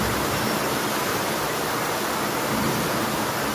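A relentless torrential rainstorm roars as a thick, even wash of noise over streets already filling with water, steady and close throughout without any speech.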